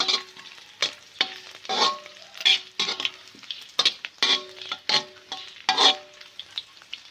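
Thai garlic sizzles in hot oil in a pan, with short bursts of frying hiss and repeated stirring scrapes of a utensil against the pan.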